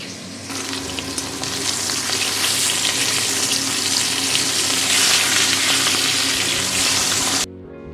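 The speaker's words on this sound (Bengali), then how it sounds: "সবার প্রথমে লবণ হলুদ মাখানো কাতলা মাছ ভেজে নেব।" Pieces of katla fish, rubbed with salt and turmeric, fry in hot oil in a close, loud, continuous sizzle that holds steady for several seconds, then cuts off abruptly near the end.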